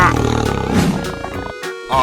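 A loud animated tiger roar from a 3D animal slide video game, a sustained growling blast lasting about a second and a half before cutting off, set against bright game music.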